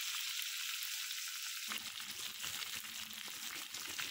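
Pomfret fish sizzling in hot oil with curry leaves in a pan, a steady bright crackle and hiss throughout with faint stirring or shifting noises partway through.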